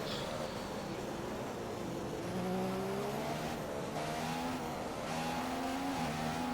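McLaren Honda Formula 1 car racing around the Singapore circuit in a video game, a continuous high engine whine rising and falling through gear changes, heard alone at steady loudness.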